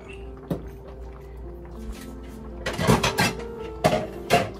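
A metal lid clanks and rattles onto a cooking pot of crab simmering in coconut milk with string beans and squash, a few sharp knocks and scrapes near the end over a low steady kitchen hum.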